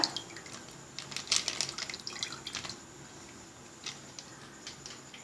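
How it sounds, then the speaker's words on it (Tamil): Milk pours and splashes steadily into a pot, with a bright trickling sound that rises briefly, then tapers to scattered drips. "ஒரு லிட்டர் பாலை வந்து நான் இந்த பாத்திரத்தில் விட்டுறேன்"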